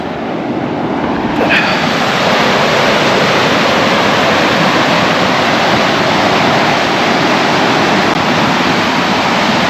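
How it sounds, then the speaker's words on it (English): River water pours over a large weir into a whitewater chute used for canoe slalom and rafting, making a loud, unbroken roar close by, with some wind buffeting the microphone. "I think there's like a big weir or sluice down there, and there's a little side chute of the river"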